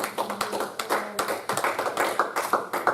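A church congregation at a Friday prayer meeting claps hands in steady, rhythmic unison, the repeated claps dense and close throughout.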